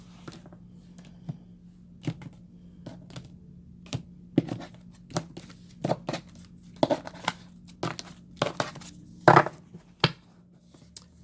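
A tarot deck is cut and shuffled close up, a quiet run of crisp card snaps and slaps, roughly a dozen in an uneven rhythm over a faint steady hum, with no voice.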